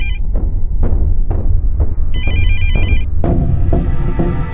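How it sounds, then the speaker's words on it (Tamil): A mobile phone ringtone rings on unanswered, heard as a loud, close, repeating electronic melody of steady beeping tones with a bright warbling pattern, continuing throughout. "ரிங் போயிட்டே இருக்குது, எடுக்க மாட்டேங்கிறானே."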